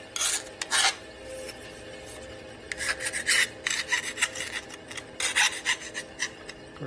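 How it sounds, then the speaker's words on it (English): A flat file rasps along the edges of a Harley shovelhead big-bore motor part, making rough, close scraping strokes in short rhythmic bursts with brief pauses between them. "Of course, you're not supposed to use a flat file on curved areas"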